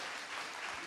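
Brief burst of applause from a church congregation during a worship service, a dense, faint wash of clapping with no talk.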